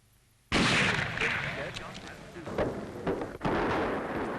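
Loud gunfire from a Stalingrad battle newsreel with a sniper firing his rifle: a sudden sharp blast opens a dense, roaring wash of battle noise, with a second hard crack partway through, no one speaking over it.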